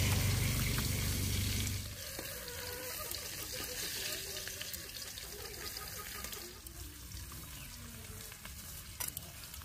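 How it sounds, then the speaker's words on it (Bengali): Steady running water hisses as a peeled bottle gourd is washed, loud at first and then quieter. Light splashing and handling noises sit under it. "লাউটা আমি প্রথমে ধুয়ে তারপরে পিস পিস করে নেব"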